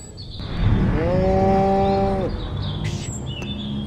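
In the Destroy All Humans video game, a mutated radioactive zombie cow lets out one loud, long, drawn-out moo. It rises and then fades over a busy game background with faint chirps.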